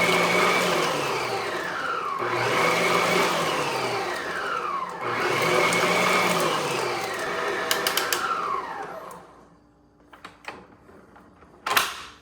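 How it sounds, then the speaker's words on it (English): A SISIRU stand mixer runs loudly with a steady motor whine that swells and dips in repeating sweeps as speeds change, then shuts off, leaving a faint hum and a few clicks and knocks. "So that sort of gives you an idea of how loud this mixer is"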